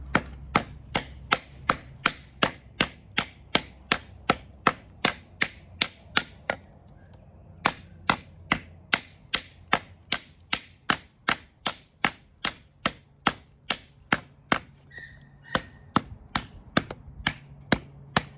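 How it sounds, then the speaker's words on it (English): A Bowie knife chopping into a wooden log with sharp, evenly spaced whacks, dozens of strikes in a steady rhythm, close and loud. "I'm just gonna break this log up here, chop it up into some pieces"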